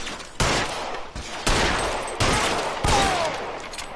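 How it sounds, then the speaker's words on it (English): Gunshots ring out in the LA Noire video game, four loud sharp cracks spaced roughly a second apart, each trailing off in a long echoing decay with no talk. "I could have swore I put at least 5 shots in him."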